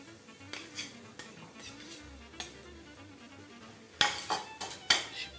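A metal frying pan is handled in a home kitchen as butter goes in: soft clinks and scrapes, then a cluster of louder clanks and knocks toward the end, with faint background noise.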